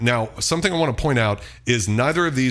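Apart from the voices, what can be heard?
No everyday noise stands out behind the speech.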